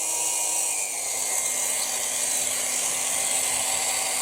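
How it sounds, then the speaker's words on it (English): A Dremel rotary tool grinds a small tab off the underside of a Hot Wheels Elite diecast model car, giving a steady, high, close whine that holds for several seconds without any talking. "grind that little tab off on the underside there."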